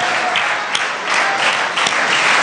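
A church congregation applauds and cheers for the Holy Spirit during an evening service, a steady, dense wash of clapping that holds loud and continuous throughout with no talk over it.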